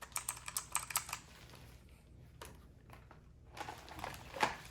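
Rapid typing on a Razer Huntsman Elite keyboard, a quick run of crisp keystrokes up close, a pause with a few scattered presses, then another burst of clicks.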